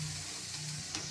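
Halwa ingredients frying in a pan, giving a steady, close sizzle with a soft hiss throughout and no voices.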